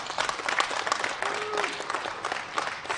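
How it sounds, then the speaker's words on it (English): A crowd at a junior beef cattle show claps steadily and loudly for about three seconds, a dense, even patter of many hands, with a voice faintly audible beneath it. "I think we should give our judge, Tyson, a great round of applause for a great job today."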